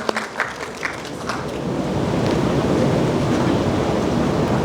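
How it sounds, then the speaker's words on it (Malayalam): Applause for girls who won medals at the Culinary Olympics starts with a few scattered claps, then swells into a loud, sustained roar of clapping from a large crowd. "Everyone, big round of applause"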